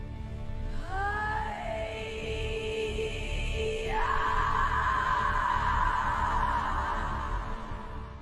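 A woman's drawn-out wailing cry, the weeping of La Llorona, rises in long wavering moans above a steady low rumble, growing louder and closer over the second half with no speech.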